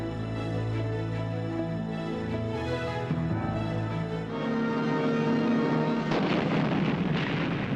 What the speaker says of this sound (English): Then a 21-gun salute as the new flag is hoisted.